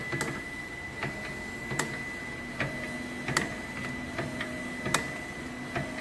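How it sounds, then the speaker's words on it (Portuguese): An electric sweets-making machine runs steadily with a soft whir and a regular series of mechanical clicks and taps, close and moderately quiet, with no talking. "Bom, vou ligar novamente a minha máquina aqui."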